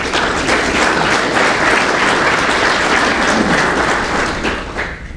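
Keynote audience applauding to welcome a presenter to the stage, dense steady clapping from a large crowd that carries on throughout and tapers slightly at the end.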